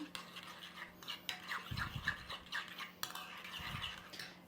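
Tomato paste and sugar are stirred briskly in a bowl with a utensil. The scraping and clinking strokes come in an irregular rhythm, close and moderately loud, with no talking.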